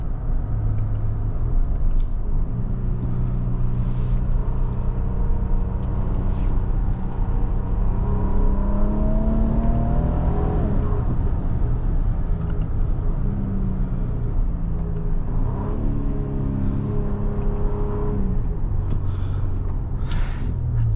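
A 2025 Infiniti QX80 driven in manual mode, its engine a steady loud rumble inside the cabin with rising and falling tones as it shifts through gears, no talk.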